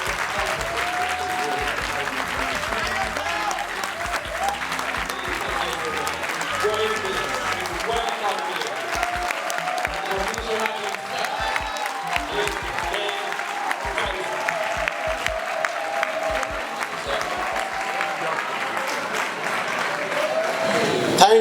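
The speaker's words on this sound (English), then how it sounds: "Can we clap for my lecturer?" An audience at a public lecture on a college campus breaks into sustained, dense applause for the lecturer, a steady roar of many hands clapping that fills the whole stretch without a break.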